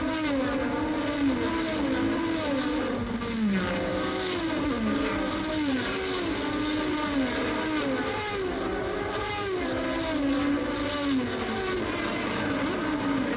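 Several 1985 Formula One cars, a Lotus and a Brabham among them, race through a chicane at Paul Ricard, their loud high-revving engines rising and falling in pitch as they pass close by, with no pause in the racing noise.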